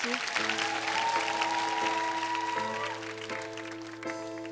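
A studio audience applauds at a Korean TV broadcast, a steady wash of clapping that fades slightly as soft music tones begin beneath it.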